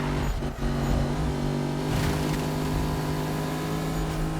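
Steady, close engine hum from a Mercedes-AMG GT S in Need for Speed 2015, holding a sustained pitch with a short dip near the start as the car is driven.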